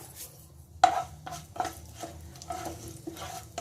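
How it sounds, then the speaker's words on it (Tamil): Fennel seeds and shahi jeera frying in hot oil in a pan, with a soft steady sizzle and a few close clinks and scrapes of a stirring spoon. "இந்த சோம்பு ஷாஹி ஜீராவும் நல்லா பொரியட்டும்."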